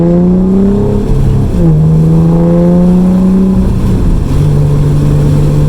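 A loud Nissan Altima Coupe 3.5 SE engine revs hard through a 3-inch straight-pipe exhaust with a raw, throaty roar, pitch climbing and dipping through several pulls, close and continuous.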